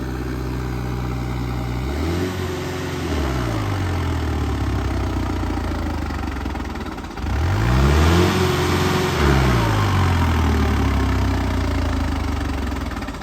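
A 4x4 tractor engine runs close and loud, rising and falling in pitch as it revs up twice over a steady idle.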